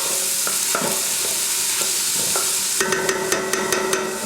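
Onions cooking gently in a pan for a basic barbecue sauce, a light, steady sizzle with clattering stirring taps throughout, growing a little busier and more metallic toward the end; no voices.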